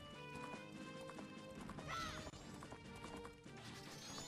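A horse in the video game Zelda: Majora's Mask gallops with steady rhythmic hoofbeats and lets out a loud whinny midway, under game music.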